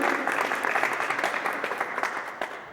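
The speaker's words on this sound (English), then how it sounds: "please give a big round of applause first to Krishnan" An audience at an anniversary panel discussion honouring flautist Dr. N. Ramani claps, a continuous, fairly dense round of many hands with a few sharper individual claps, moderately close and slowly tapering.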